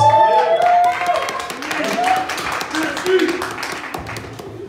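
An audience at a music press conference breaks into a burst of clapping that carries on under a voice speaking over it.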